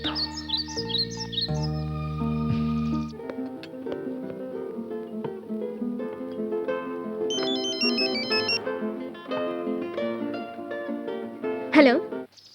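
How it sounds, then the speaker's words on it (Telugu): Ringing tone of an outgoing phone call: a repeating electronic melodic ring cycling through several short tonal phrases, fairly loud and steady, with a chirpy sweep near the end. "ఫోన్ చేద్దాం."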